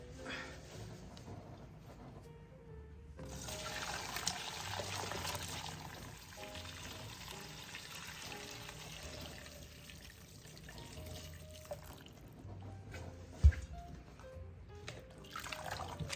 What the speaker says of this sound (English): Got my chicken broth right here. Pour this to strain it.